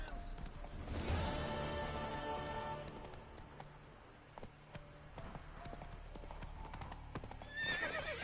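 Roach the horse from The Witcher 3 gallops with steady clip-clop hoofbeats and a loud whinny near the start, hooves continuing rhythmically throughout over game ambience.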